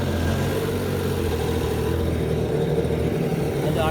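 A 2017 Yamaha jet ski engine, rebuilt after a wreck, running steadily at high RPM with a dense, continuous mechanical drone, loud and close and holding level without pauses.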